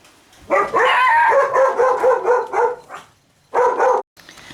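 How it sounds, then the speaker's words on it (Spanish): Two small dogs bark wildly at home in a rapid, loud, continuous volley of harsh yaps, then a brief pause and one more short burst. "se pusieron a ladrar enloquecidas"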